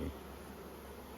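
Calm honey bees on the frames of a crowded hive give a brief, steady close buzz, with a soft knock at the very start and an even hum after.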